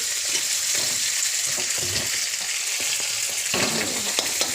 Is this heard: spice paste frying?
yes